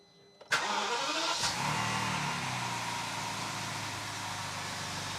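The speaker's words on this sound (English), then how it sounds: "as soon as I start this engine, that power steering pump should suck that new fluid around the system" A car engine cranks and catches after a valve block replacement on a Dynamic Drive system, then settles into a steady, loud idle that continues alone for several seconds.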